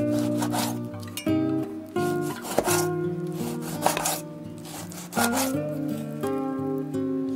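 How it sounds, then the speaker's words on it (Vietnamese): Pork being cut into small one-centimetre cubes on a cutting board, a string of close, rubbing knife strokes with occasional sharper chops, sounding under steady background music. "Mình cắt miếng vuông cạnh khoảng 1cm để thịt dễ thấm ha."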